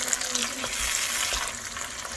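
Tomatoes drop into hot oil with ginger and garlic, giving a steady, close sizzle and crackle with faint stirring.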